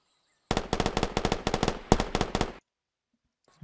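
Rapid burst of video game gunfire, about fifteen sharp shots in quick succession over two seconds, loud and close, then silence.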